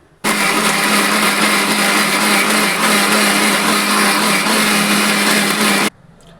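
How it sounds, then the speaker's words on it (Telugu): A mixer grinder runs steadily for several seconds, blending tomato, onion and green chilli into a paste with a loud, even whir that starts and stops abruptly. "ఇప్పుడు మనం మిగతావి మిక్సీ పడదాం."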